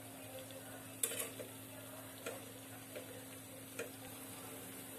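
Eggs fry quietly in a pan on low gas for egg masala, a faint soft sizzle with a few sharp ticks and clicks over a low hum.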